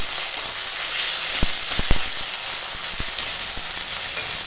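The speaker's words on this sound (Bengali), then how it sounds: "জিরে বাটাটা দিলাম, দিয়ে একটু তেলের ওপর নেড়ে দিই।" Cumin paste frying in oil with bitter gourd, a steady soft sizzle broken by a few sharp clicks of a utensil stirring the pan, close and fairly quiet.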